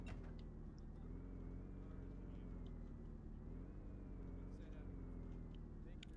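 Vehicle engine in Arma 3 droning steadily throughout, a low continuous rumble with a faintly rising and falling pitch, close and fairly quiet, with no voices heard.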